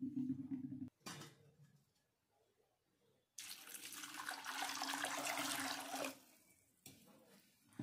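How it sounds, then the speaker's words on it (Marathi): Soaked black-eyed peas are rinsed in water: running water gushes and splashes loudly in a long burst, with shorter bursts and quiet gaps before and after, close by. "तर इथे मी याला 2 पाण्याने आता स्वच्छ धुवून घेते।"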